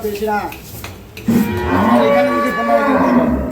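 A high-yield dairy cow at a Bangladeshi farm lets out a long, loud, close moo that fills the second half, after a brief earlier low call and some clatter of metal.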